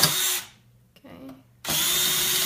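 Power drill widening holes in a homemade wooden silverware holder, two close bursts of drilling with a brief quiet gap between them.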